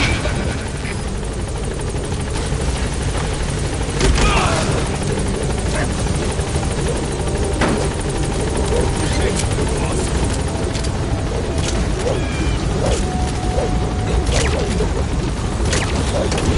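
The Pequod helicopter from Metal Gear Solid V arrives at a landing zone, its rotor roar loud and continuous throughout, with a few faint clanks within the drone.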